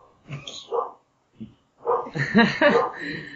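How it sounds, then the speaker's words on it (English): A few sharp dog barks in quick succession, close by, with people talking around them. "I told you the barking would come"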